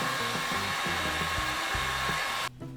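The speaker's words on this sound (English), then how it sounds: "So this I hit with a heat gun, it sealed up some of the foam pores" A heat gun blasts steady, loud hot air over foam pieces to seal the pores in a robot arm build, with a rough rumbling flutter underneath, then cuts off abruptly near the end.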